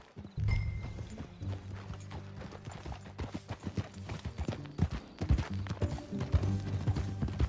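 Rapid horse hoofbeats from Red Dead Redemption 2 clip-clop steadily and close by, layered over low rumbling tones like a game soundtrack, with a brief whinny-like snort.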